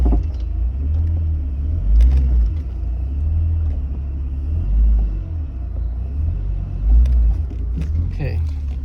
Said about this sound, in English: So we're gonna move the car back now.